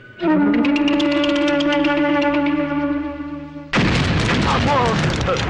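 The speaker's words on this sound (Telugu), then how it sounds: "డమ్మీలు పేలినప్పుడు ఇంత భయపడితే ఒరిజినల్ పేలినప్పుడు చచ్చిపోతాయేమో" Dummy bombs go off in a comedy film scene: a sustained tonal hum gives way, near the end, to a sudden loud broadband blast that roars on steadily rather than fading.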